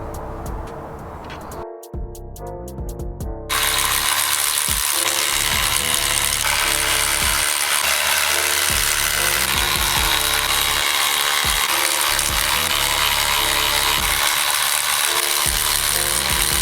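A ratchet clicks loudly and continuously up close while backing out the cylinder head bolts on a Mazda MX5, preceded by a few quieter mechanical clicks and a brief gap.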